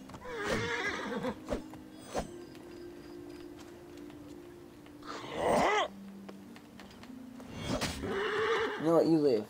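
In Assassin's Creed Origins, a horse whinnies in several separate bursts near the start, middle and end, with scattered hoof clops, while someone speaks between and over the calls.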